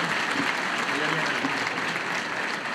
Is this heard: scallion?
no